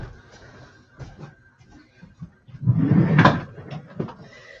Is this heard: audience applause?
no